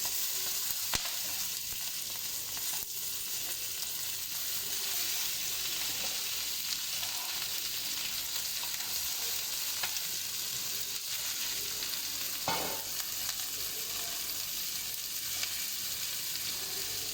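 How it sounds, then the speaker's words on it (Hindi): Chicken leg pieces fry on a hot tawa with a steady, dense sizzle that holds evenly for the whole stretch, broken by a few brief clinks and scrapes. "तवे पे लेग पीसेस ऐड करेंगे।"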